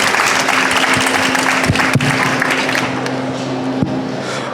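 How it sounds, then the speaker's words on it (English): Audience applause at a sustainable-futures pitch and panel session in Copenhagen, welcoming a young entrepreneur team from Colombia onto the stage; steady, fairly loud clapping fills the room throughout, with a low steady hum underneath. "Please give them a big applause and welcome to the session."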